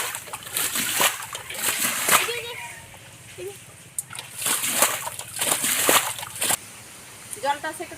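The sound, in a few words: water splashing while draining a pit to catch fish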